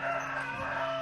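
A rooster crows on a farm in Uganda, one brief clear call at moderate distance with a faint farmyard background.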